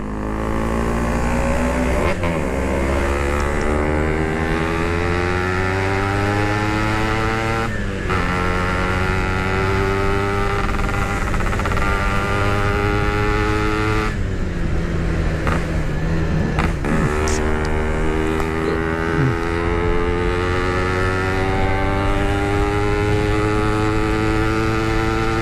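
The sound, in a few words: Yamaha RX King motorcycle engine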